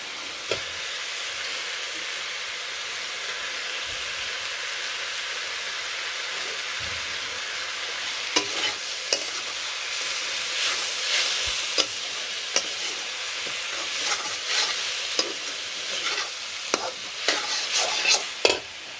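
Snakehead fish pieces frying in a pan for a curry, a steady close sizzle with intermittent clicks and stirring scrapes throughout, no talking.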